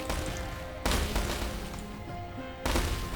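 Submachine gun fire in the War Selection video game comes as sharp, loud bursts of shots, with two heavy volleys standing out between quieter crackling gunfire.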